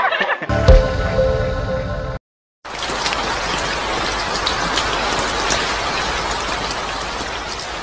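Heavy rain pours down steadily and loudly, a dense close hiss that starts after a short burst of another sound and a brief silence, then continues without a break.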